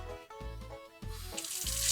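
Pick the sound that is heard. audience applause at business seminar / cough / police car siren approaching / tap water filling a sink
tap water filling a sink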